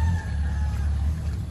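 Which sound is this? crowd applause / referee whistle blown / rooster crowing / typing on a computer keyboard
rooster crowing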